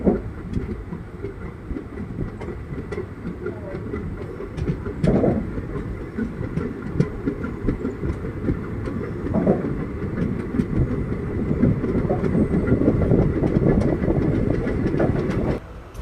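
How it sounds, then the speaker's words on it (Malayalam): Passenger train pulling out of Murukkumpuzha railway station on the Punalur to Nagercoil line, a steady rumble of wheels and carriages with rhythmic clickety-clack on the rails, building slightly as it gathers speed, close and continuous with no talk. "നമ്മുടെ ട്രെയിൻ അങ്ങനെ ഇതാ വീണ്ടും മുരുക്കുമ്പുഴ റെയിൽവേ സ്റ്റേഷനിൽ നിന്ന് പുറപ്പെട്ടിരിക്കുകയാണ്."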